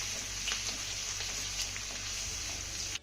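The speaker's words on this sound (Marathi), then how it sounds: "अर्धा मिनिट हा लसूण आपल्याला चांगला परतून घ्यायचा आहे." Grated garlic and cumin sautéing in hot oil in a pan, a soft, steady crackling sizzle at close range, heard alone.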